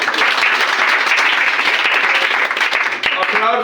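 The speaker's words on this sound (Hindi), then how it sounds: "चलिए खुशी के लिए जोरदार ताली।" Students in a 10th-grade maths class give a classmate a loud round of clapping, dense and continuous and close by, thinning slightly near the end.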